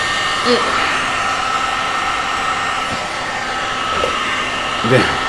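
A hair dryer blows heat with a steady, loud broadband whoosh that runs without a break, and a few brief bumps rise above it. The setting is a chilly room.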